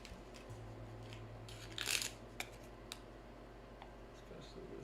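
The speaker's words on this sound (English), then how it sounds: "But what I'm gonna do now is just cut them." Scissors snip crispy dried edges off anthurium veitchii leaves, a few faint close cuts and rustles with one brief louder snip in a quiet room.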